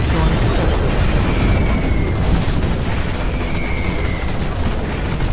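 Dense, continuous rumbling of explosions and blasts from Scud Storm missile strikes in Command & Conquer Generals fills the whole stretch, loud and chaotic, with a high whistling streak passing twice overhead.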